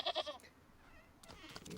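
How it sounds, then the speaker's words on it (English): A goat bleats in the video game Wytchwood, two quick nasal bleats up close, then a softer wavering one after a short pause. "Goat."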